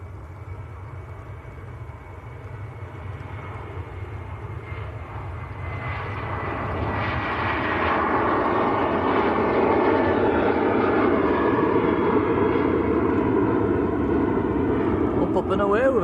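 Airliner taking off from Manchester Airport, bound for Tenerife, a continuous engine roar that swells and grows louder over the clip as the jet climbs away, with voices talking over it.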